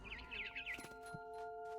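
A barn swallow chirps in the video game What Remains of Edith Finch: a quick run of bright warbling trills, then a few faint calls over a soft steady background hum.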